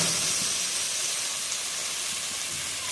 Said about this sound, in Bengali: এবার আমি দিয়ে দেবো সিদ্ধ করে রাখা লতি